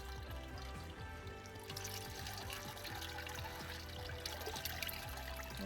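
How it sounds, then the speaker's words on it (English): Water runs through a bed of grain in a homebrewing vessel, a steady trickling, pouring flow that holds even and fairly close, with no voices over it. "I'll just run a bit of water through it."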